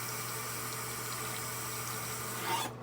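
Running tap water streams steadily while a makeup brush and a Dove soap bar are wetted, a continuous even hiss close by with a slight splash near the end.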